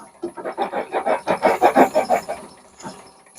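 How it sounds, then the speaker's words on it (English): A drill bores straight through a round whiskey/bourbon smoker, making a rhythmic, close rasping grind in steady strokes about three per second that stops after roughly two and a half seconds, followed by one last short scrape. "And I just drill straight through"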